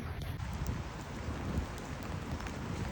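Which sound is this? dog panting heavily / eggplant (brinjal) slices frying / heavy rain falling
heavy rain falling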